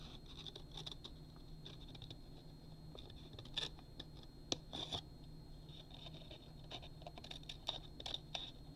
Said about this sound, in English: I'm going to cut my notches.